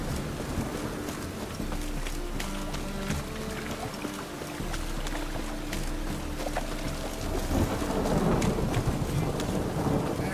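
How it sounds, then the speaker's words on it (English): Steady rain in the video game The Witcher 3: Wild Hunt pours with a constant hiss, a low rumble building underneath toward the end. "It's raining again."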